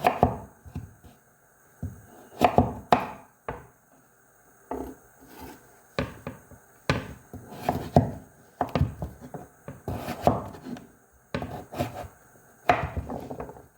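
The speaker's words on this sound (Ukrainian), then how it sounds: "нарізаємо на невеличкі кубики" Repeated knife strikes chop pumpkin into small cubes on a cutting board, irregular bursts of sharp close cuts with brief pauses between.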